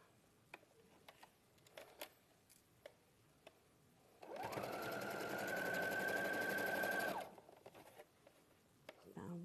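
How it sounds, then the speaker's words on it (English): A sewing machine stitches down a line on fabric pieces, one loud steady mechanical whir lasting about three seconds between quieter handling clicks and rustles. "we'll take that to the sewing machine and I will sew down that line and down that line"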